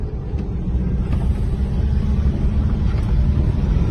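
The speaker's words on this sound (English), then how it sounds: "Quite a windy day today" Steady low rumbling wind buffets the microphone on a farm near a raspberry field, a constant dull roar with no voices.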